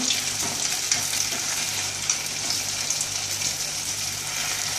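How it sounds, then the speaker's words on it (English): Banana fritters fry in hot oil on a medium flame, a steady dense sizzle with faint clinks and scraping as they are flipped over to cook the other side. "See it is slightly fried so I am going to just flip it to the next side."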